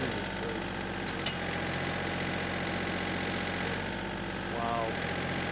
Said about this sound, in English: That's at the maximum load of the tractor.